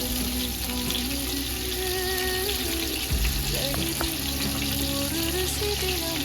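Onions sautéing with cardamom in a pan for mutton biryani: a steady, loud sizzle and frying hiss throughout, with light clinks and stirring, no talk.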